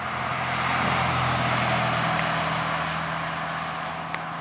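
A Porsche 996 Carrera with a Fabspeed Maxflo muffler cruises at normal speed, its exhaust a quiet, mild but throaty steady drone with a low hum held evenly throughout.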